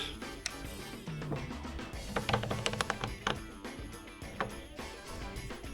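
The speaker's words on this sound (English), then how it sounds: "I think maybe if I grab a clamp" A clamp is fitted and tightened onto a 3D printed resin mold, giving close, irregular ratcheting clicks, plastic knocks and rattles in quick bursts, loudest in the middle.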